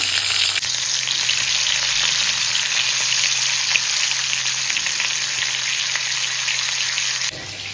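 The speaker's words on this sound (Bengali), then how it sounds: "এবার করব মাছগুলো ভেজে নেব।" Bhetki fish fry in hot oil in a pan with a loud, constant crackling sizzle that holds steady for several seconds, close up and without talk.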